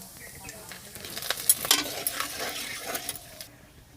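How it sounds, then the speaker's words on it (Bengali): Cumin seeds and bay leaves hit hot oil for tempering a Bengali shol fish curry, a soft sizzle that swells with a few light stirring clinks, then fades away. "জিরে দিয়ে দিচ্ছি ফোড়নে আর কটা তেজপাতা"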